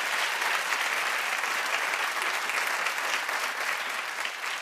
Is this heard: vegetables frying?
no